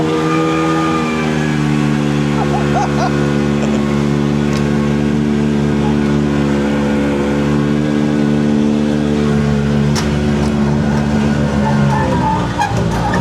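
A small Italian micro van, a barn find left parked for 20 years, drives with a steady mid-pitched engine drone and hum that holds throughout, fairly loud and close, with faint voices underneath.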